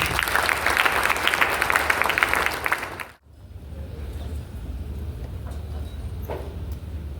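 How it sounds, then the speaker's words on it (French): An audience claps in loud, dense applause for about three seconds, then it cuts off abruptly into a quieter room ambience with scattered faint noises. "Acclamez-la, s'il vous plaît."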